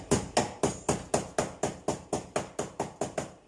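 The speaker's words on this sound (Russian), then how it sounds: "Далее у меня вот есть такой молоточек, смотрите, что я делаю." A small hammer strikes a steel car sill panel during welding repair work, producing about fourteen sharp, evenly paced metallic blows in a fast, steady rhythm, each with a short ringing decay.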